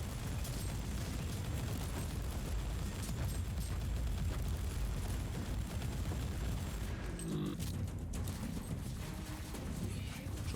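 Rapid turret gunfire rattles in Warhammer 40,000: Inquisitor - Martyr, a dense continuous burst of shots with explosive rumble, briefly thinning near the end.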